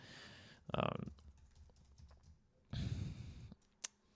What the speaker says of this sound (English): I'm just going to be out here typing up a little pre-market analysis